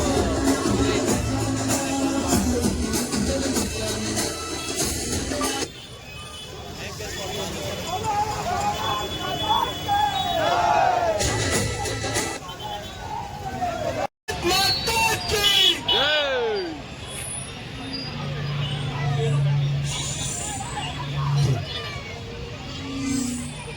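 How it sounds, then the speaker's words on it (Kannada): A street circle packed with people during an RSS Ganesha procession, a dense outdoor hubbub of many voices with occasional shouts, while someone talks nearby over the crowd throughout. "ಸರ್ಕಲ್ ಫುಲ್ ಕ್ರೌಡ್ ಆಗ್ಬಿಟ್ಟಿದೆ"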